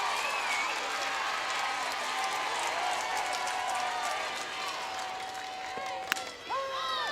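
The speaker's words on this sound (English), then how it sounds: "Crowd is alive again here in Tuscaloosa" Crowd at a 2014 NCAA softball super regional game in Tuscaloosa, Alabama, cheering and applauding in a sustained, broad wash of clapping and whistles heard at a distance, with a voice calling over it.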